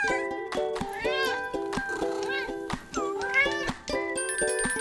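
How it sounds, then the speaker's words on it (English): A domestic cat meows repeatedly in clear, close, tonal cries with short pauses between them and a faint tinkle in the background. "A cat. A cat says,"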